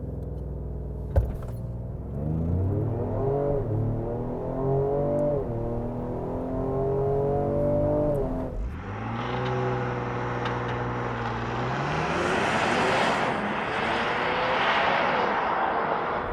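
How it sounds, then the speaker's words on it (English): A 2025 Ford Explorer ST with a 3-liter EcoBoost V6 accelerates hard from a standstill without launch control, its engine note climbing through several gear changes, then building into a loud, steady roar with rising wind and road noise, heard from inside. "we're going for a drive. 2025 Ford Explorer. ST without launch control"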